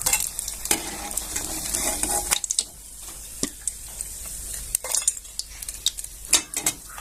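Sabudana bhaji fry in hot oil, a steady loud sizzle throughout with sharp clinks and scrapes of a utensil against the pan breaking through now and then.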